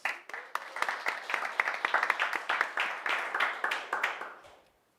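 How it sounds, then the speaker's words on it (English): Audience at a university nonprofit pitch competition final applauds a presenter, with dense, steady clapping that carries on for several seconds, then thins out and fades to silence. "So let's give her a round of applause."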